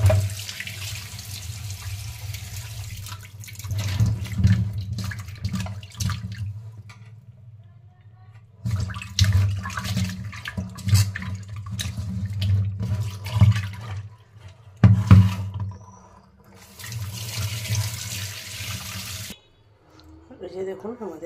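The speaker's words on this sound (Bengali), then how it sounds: "এই যে পমফ্রেট মাছগুলো আমরা প্রথমে ধুয়ে নেব।" Pomfret fish being washed under a running kitchen tap, water gushing and splashing into a sink in several bursts with brief pauses, close and fairly loud.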